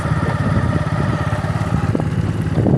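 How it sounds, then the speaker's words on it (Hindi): A motorcycle rides along a road in the rider's hearing, its engine a loud, steady, close-up putter with rhythmic pulsing and faint clatter throughout, no voices over it. "मैं बाइक पे हूँ"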